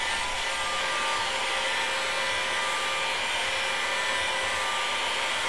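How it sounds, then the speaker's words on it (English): A heat gun set to about 400 blows steadily while drying a distemper paint test sample, a constant close airy whoosh with a faint whine, unbroken and without talk. "I'll take my heat gun and dry it."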